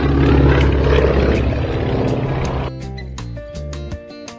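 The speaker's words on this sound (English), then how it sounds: "A is for aeroplane." Loud, steady droning of an aeroplane engine in a children's handwriting lesson, a dense propeller-like roar that thins into tonal hum and a few sparkling chimes near the end, no speech.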